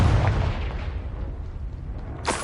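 A fiery Confringo spell blast from Hogwarts Legacy lands with a heavy boom up front that rumbles away, then a second sharp crack hits near the end; loud, close and free of speech.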